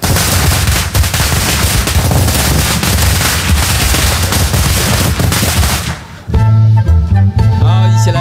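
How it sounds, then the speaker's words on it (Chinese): Firecrackers go off at a Chinese New Year gala. A loud, dense, continuous rapid crackle and popping lasts about six seconds, then stops abruptly as music begins. "放鞭炮，"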